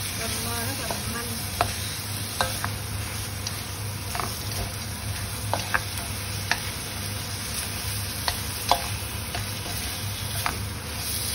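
Fresh tender beef stir-fried in a hot pan with onion, garlic and scallion oil, a steady loud sizzle with scattered clicks of stirring throughout.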